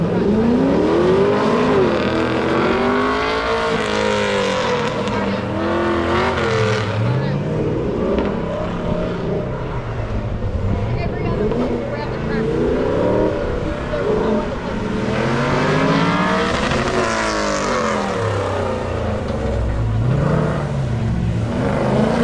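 A yellow C15 Corvette and a silver Camaro run an autocross final, engines revving and rising and falling in pitch as they accelerate and brake through the course, loud and continuous with voices mixed in.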